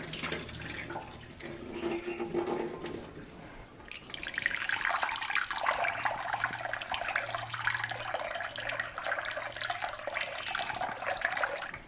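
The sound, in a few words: rinsing lentils under tap water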